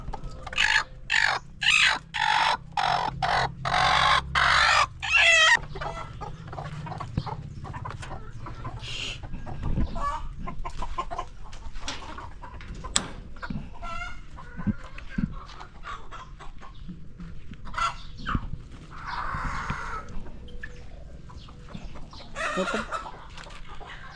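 Pet chickens, including a brown hen, cluck and crow in a backyard coop, with dense loud calls in the first five seconds, then scattered quieter clucks and rustling.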